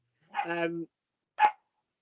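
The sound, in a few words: dog barking behind a glass door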